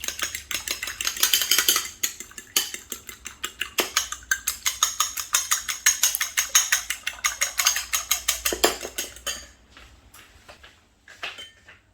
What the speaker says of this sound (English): Take an egg, and beat it.